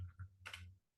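Short burst of typing on a computer keyboard while entering text in a VBA editor, a quick cluster of close, crisp key clicks lasting under half a second, with no talking.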